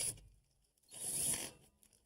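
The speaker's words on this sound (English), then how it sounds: "Now with the takeoff in place, the last thing is to install some zip screws." Zip screws are driven into a sheet-metal duct takeoff. A brief, rough, high-pitched whirring grind comes from close by, running about half a second with fainter scraping around it.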